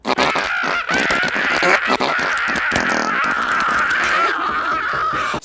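Crows cawing in a comedy film scene, a dense, loud flock of harsh, overlapping caws and squawks filling the scene continuously, with birds close by and no clear talk.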